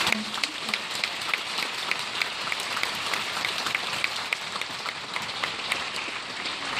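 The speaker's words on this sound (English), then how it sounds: "I think we should give another round of applause for these fine speakers." Another round of applause for student speakers at a National Honor Society induction, a steady wash of clapping from an audience in a hall, moderately loud and continuous throughout.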